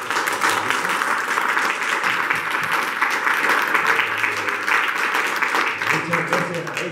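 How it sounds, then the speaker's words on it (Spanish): Audience applause at a literature and history event, with sustained dense clapping from a crowd that carries steadily through the clip and a faint voice speaking beneath it. "queremos por favor un aplauso para nuestro"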